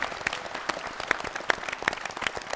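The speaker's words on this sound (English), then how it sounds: "give them another round of applause" A quiz-show audience claps for a team of contestants, a busy, continuous applause with frequent sharp, close hand claps popping out over the steady crowd patter.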